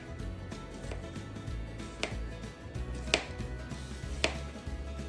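A knife slicing through a peeled cucumber on a board, a few distinct crisp cuts and taps spaced about a second apart over quiet background noise, no talking.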